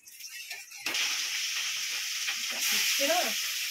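Fish marinated in turmeric, chili powder and mustard oil drops into a hot pan and bursts into a loud, steady sizzle that swells slightly later, with a brief voice at the start.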